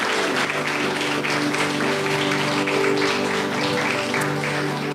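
A church congregation applauds the Lord during a Spanish-language sermon, a steady wash of clapping with a sustained organ or keyboard tone underneath.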